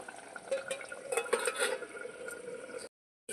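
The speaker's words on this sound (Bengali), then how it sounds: "আবার আমি ঢাকাটা দিয়ে দিচ্ছি" A lid goes onto a kadai of simmering mutton with a soft metallic clatter over a bubbling sizzle, and the sound then cuts abruptly to silence.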